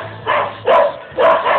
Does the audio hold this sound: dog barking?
yes